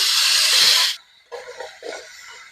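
Marinated chicken pieces dropped into a hot pan for a capsicum and carrot chicken curry, a loud burst of sizzling hiss for about a second that cuts off, followed by quieter, patchy sizzling.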